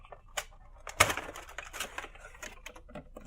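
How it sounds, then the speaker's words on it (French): A Back to the Future collectible figurine being unwrapped up close: crisp crinkling and rustling of packaging with scattered sharp clicks and taps, one louder snap early on. "Alors, je vais la déballer."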